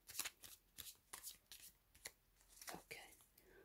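Quiet, rapid riffling and flicking of tarot cards in several short bursts, soft and close, with faint voice-like sounds in the background.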